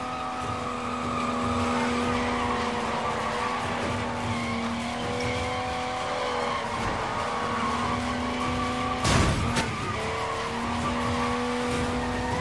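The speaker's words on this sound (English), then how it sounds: "I'm running them with one flat tire." A car limping along on one flat tire in the Sleeping Dogs video game, engine droning steadily with rising and falling pitch over a continuous scraping rumble, and a brief sharp crunch near the end.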